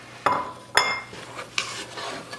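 A spoon stirs semolina halwa with sugar in a pan, three distinct scraping clinks against the metal at a steady pace, close and fairly loud.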